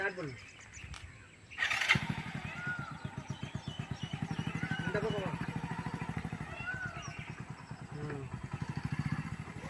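A motorcycle engine starts abruptly and settles into a steady running chug during an RTO figure-eight driving licence test. Birds chirp in the background and voices may be faintly present.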